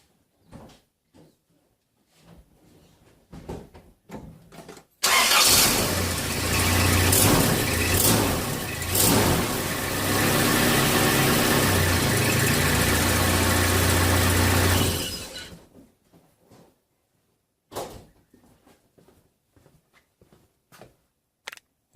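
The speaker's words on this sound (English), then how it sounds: "the engine's really responsive" A 1995 Holden Rodeo with a 2.6 engine, fitted with a new distributor cap, leads and plugs, cranks and catches, then idles loud and close for about ten seconds before cutting off, with scattered knocks and clunks before and after.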